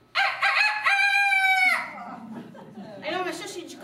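A storyteller imitates a rooster crowing with her voice, one loud drawn-out cock-a-doodle-doo call near and clear, followed by quieter speech-like vocal sounds.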